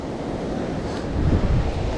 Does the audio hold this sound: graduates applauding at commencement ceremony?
no